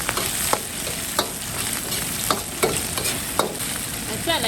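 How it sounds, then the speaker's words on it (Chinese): Scallion, ginger, garlic and dried Sichuan pepper crackle in hot oil in a wok, a dense continuous sizzle with repeated spatula scrapes and taps at an uneven rhythm, loud and close, no voices. "锅里加油，加入葱姜蒜、干花椒"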